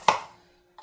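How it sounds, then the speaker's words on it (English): A knife makes one sharp chop through unpeeled ginger on a cutting board, close and crisp, with a fast decay and a faint second knock at the end. "I don't even peel the ginger. I just kind of cut it up"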